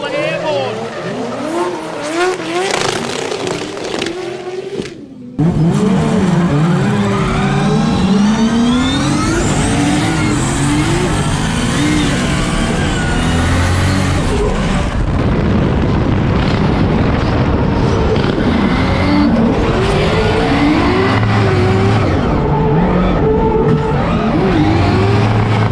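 A Toyota Corolla drift car at a drifting event in Melbourne: a loud engine revving and screaming alongside tire squeal, continuous and close, with a commentator talking over it throughout.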